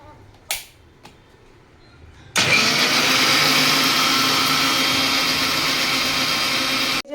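A kitchen wet grinder whirs steadily as it grinds soaked rice and lentils into idli batter, starting abruptly after a couple of sharp clicks and running loud and constant for nearly five seconds before cutting off.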